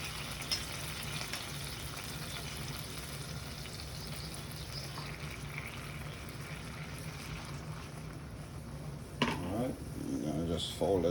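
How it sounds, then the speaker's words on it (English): Spaghetti folded into homemade tomato sauce in a pan gives a steady, soft sizzle with faint stirring and scraping, ending in a few louder pan clinks near the end; a voice talks quietly over it. "I'm gonna go ahead and fold in my spaghetti."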